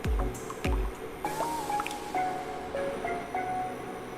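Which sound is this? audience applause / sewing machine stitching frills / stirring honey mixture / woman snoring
stirring honey mixture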